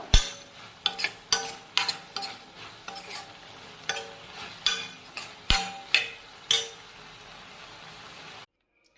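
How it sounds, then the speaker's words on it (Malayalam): A bean and bitter gourd stir-fry tossed with coconut oil in a pan, about a dozen sharp spoon scrapes and clinks in an uneven rhythm over a low sizzle, close up with no voices. "അതിലേക്ക് നമുക്ക് കുറച്ച് വെളിച്ചെണ്ണ ഒഴിച്ചു കൊടുത്തിട്ട് ഒന്ന് മിക്സ് ചെയ്തെടുക്കാം."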